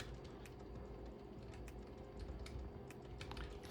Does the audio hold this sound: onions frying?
no